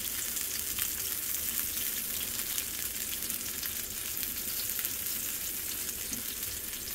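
Arepas fry and brown in a pan, giving a continuous, even sizzle that stays close and steady throughout without any talk.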